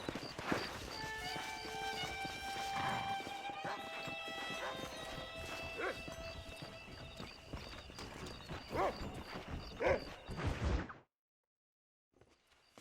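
A horse walks in Red Dead Redemption, its hooves clip-clopping steadily under a spoken voice and background music, then the sound cuts off abruptly near the end.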